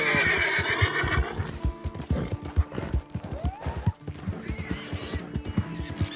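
A horse in Red Dead Redemption 2 whinnies loudly, then hooves clop in an uneven rhythm with snorts and shuffling nearby.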